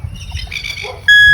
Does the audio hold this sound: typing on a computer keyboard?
no